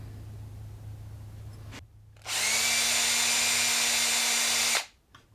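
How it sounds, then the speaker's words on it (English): A power drill whirs up to a steady high-pitched spin for a few seconds, spinning a primitive handmade drill bit to check it is centered, then winds down, after a stretch of background hum. "I'm going to throw that in the drill and see if those are centered."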